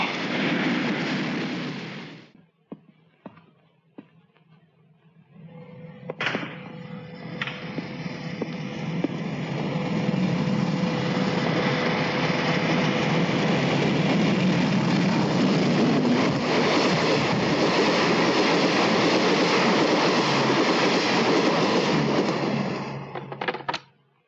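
The Super Express passer-by train roars past at high speed, a loud, sustained, close rushing rumble that lasts about twenty seconds. A high steady whistle-like tone sits over it, and the noise cuts off abruptly at the end after a brief quieter stretch near the start.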